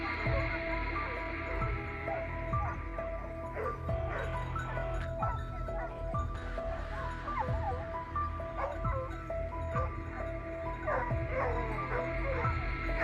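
Professional hunting dogs bark and yip in thick hillside brush during a wild boar hunt on farmland, with scattered distant barks over a steady low hum.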